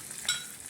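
Green chillies and curry leaves hit hot tempering oil with a sharp close sizzle burst, then settle into a steady hiss and crackle.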